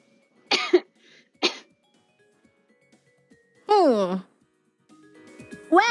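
A baby coughs in a played-back recording: two short sharp coughs near the start, followed by a few rising and falling infant squeals and cries, fairly close and loud against a quiet background.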